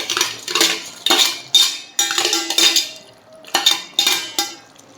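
Fried brinjal and potato are stirred into a simmering curry gravy with a metal spoon, giving repeated scraping and clinking strokes against the pan in a steady rhythm, close and fairly loud, with no talking.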